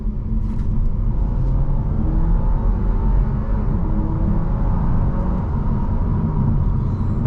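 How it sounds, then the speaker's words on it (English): Cabin rumble from an Audi A4 with a 2-liter turbo under hard throttle, steady strong engine drone building through the run with no talking. "get it up to 25 miles an hour and kind of just mash the throttle, see what the transmission does"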